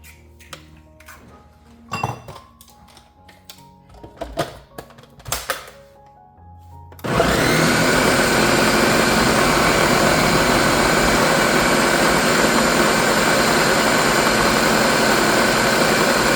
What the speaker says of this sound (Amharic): ብሮኮሊውን መጀመሪያ በደንብ አድርጌ መተዋለሁ፣ እፈጨዋለሁ በዚህ በጁስ መፍጫ